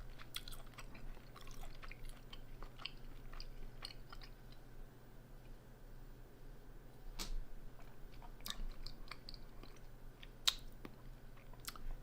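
Close, quiet chewing of a piece of home-grilled steak, with soft repeated mouth sounds and occasional crunchy clicks spread steadily over a low background hum.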